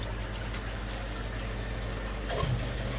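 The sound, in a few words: water being pumped into a garden pond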